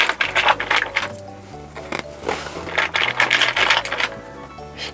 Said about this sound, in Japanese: そうしたら両端を1センチの縫い代でミシンかけていきます。